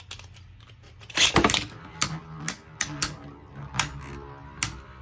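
Beyblade Burst spinning tops clashing in a plastic battle stadium: a loud burst of clatter early on, then a series of sharp clicking hits at irregular intervals over a faint steady whir.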